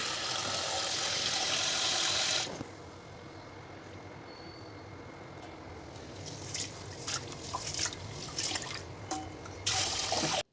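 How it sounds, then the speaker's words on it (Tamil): Rice and black urad dal being washed by hand in a vessel, a loud rushing pour of water at the start giving way to steady sloshing, swishing and dripping close by, with no one talking. "ரெண்டையும் ஒன்றா பாத்திரத்தில் போட்டு நல்லா வாஷ் பண்ணி எடுத்துக்கோங்க."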